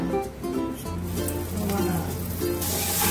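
Spices with black pepper and green chili paste sizzle and are stirred in a pan for butter chicken masala, a steady frying hiss heard beneath a voice.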